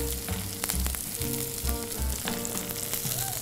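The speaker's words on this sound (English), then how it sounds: "we'll drain any of the leftover or excess fat, and we'll toss in our rosemary and our garlic" Garlic and a small sprig of rosemary sizzle in a frying pan after the excess fat is drained, a busy crackling fry with a few brief clinks from stirring and no voices.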